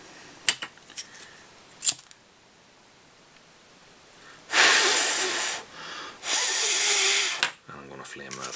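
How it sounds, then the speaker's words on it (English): Tubing snipped with scissors during fly tying for an Einar Monkey tube fly, two loud bursts of cutting noise close by, separated by a short pause, with faint handling clicks before and after. "Then I'm going to cut off, leaving maybe 5 mil or so of tubing out the front."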